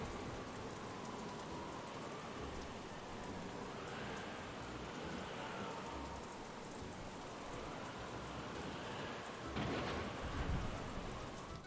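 In the farming game Story of Seasons: Pioneers of Olive Town, a rainstorm hisses steadily with rolling thunder swelling in the background and a sharper crack of lightning near the end.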